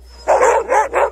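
Sled dogs bark loudly and close by in a tundra snow setting, giving three quick yelping barks in a row.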